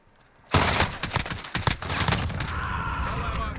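VKS rifle shots in Call of Duty Modern Warfare, firing subsonic rounds: a sudden burst of rapid cracks starting about half a second in, a few more spaced shots, then lingering game noise.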